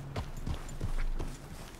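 A horse's hooves clip-clop in a few close, distinct steps on ground in Red Dead Redemption 2, short and clear with little else behind them.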